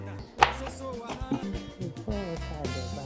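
Yam is pounded for fufu with a series of irregular heavy thuds and knocks, while people talk through the pounding.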